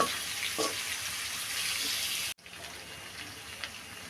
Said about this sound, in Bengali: এবার ভালো মতো নেড়ে ছেড়ে কষিয়ে নিব